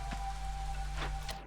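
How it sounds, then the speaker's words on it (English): Soft steady drizzle patters lightly on a surface, a few slightly louder drop splashes standing out over a constant low hum. "It's still gonna be drizzle for a while"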